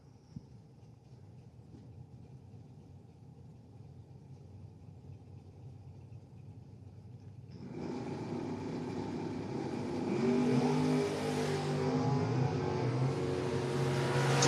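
Camaro drag race car at a drag racing event: a steady low engine rumble and idle, then a sudden loud surge of roaring engine noise as the car revs and launches, staying loud and building to the end.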